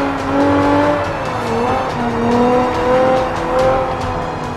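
An Abarth 500 fitted with a V6 engine from a 370Z, rear-wheel drive, races in Forza 5, its engine droning and shifting pitch up close as tires squeal through corners.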